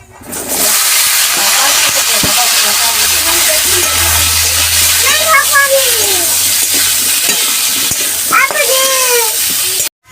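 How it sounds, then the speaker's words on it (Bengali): Pointed gourd (potol) frying in mustard oil with panch phoron gives a loud, close, continuous sizzling hiss, with a voice speaking over it at moments. "আবার সরষের তেল দিয়ে দিচ্ছি পটলগুলো ভেজে নেবার জন্য"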